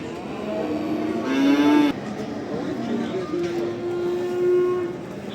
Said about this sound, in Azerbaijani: Bak böyle danalar var.